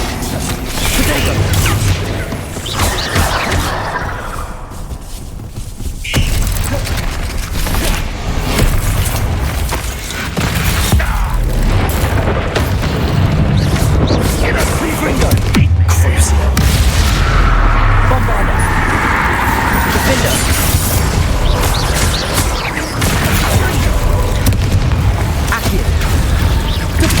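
Bombarda and Confringo spell blasts in a Hogwarts Legacy battle: loud continuous combat with repeated booming impacts, whooshes and mechanical clatter, with a voice calling out amid the noise.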